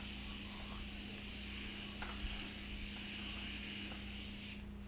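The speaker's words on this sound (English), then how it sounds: "as I spray disinfectant on the couch" Disinfectant sprayed onto a couch gives a steady, continuous hiss close by, held for several seconds before cutting off abruptly near the end.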